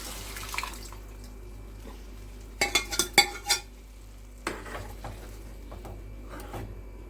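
Dal poured into a pan of hot spice tempering, a quiet sizzle with a cluster of sharp spattering crackles and pops in the middle, then softer scattered sizzling and stirring over a low steady hum.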